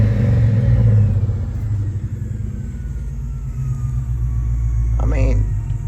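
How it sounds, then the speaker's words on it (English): A 1997 Ford Mustang GT V8 rumbles loudly at close range, the engine note swelling and easing through a rev, with a person briefly talking over it near the end. "let's hear how she revs up."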